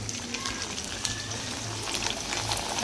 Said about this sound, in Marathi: असं तेल तापत ठेवलेलं आणि आता आपण बॉबी पापड तळून घेऊया.